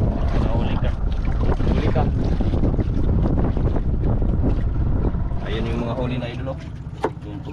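A small fishing boat is out on open water in strong wind, with gusts buffeting the microphone and water sloshing throughout while people talk nearby.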